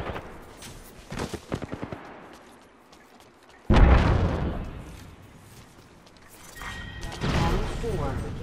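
Enemy gunfire in a squad-based shooter game: a quick burst of rapid shots, then a sudden loud blast and rolling noise, with spoken talk running underneath.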